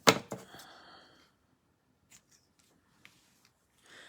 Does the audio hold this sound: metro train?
no